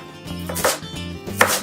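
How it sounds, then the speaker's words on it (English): A knife chopping through bunched fresh herbs on a cutting board, finely mincing them in a few quick, close, crisp strokes with no talking. "It helps to kind of bunch this up in your hands, and then you can just run through it with your knife."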